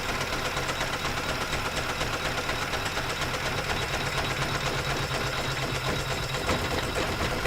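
An embroidery machine runs steadily through a block-of-the-month quilt block, a continuous fast mechanical whirring and needle-knocking clatter that holds at an even level the whole way with no voices.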